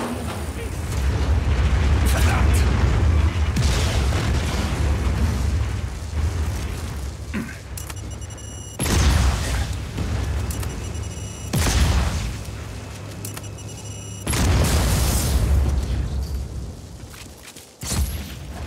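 Heavy explosions boom and rumble as a turbine core is blown apart in the video game Just Cause 4, with repeated loud blasts and crackling debris bursts spread through the stretch and a voice talking in between.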